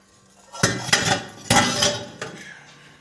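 Dirty dishes, pots and cutlery are handled in a home kitchen, with several sharp metallic clanks and clatters in close succession and a few quieter clinks as they settle; no one speaks.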